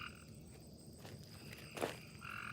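Frogs croak in a garden with repeated buzzy calls, fairly faint and steady over a soft outdoor background, plus a brief rustle near the end.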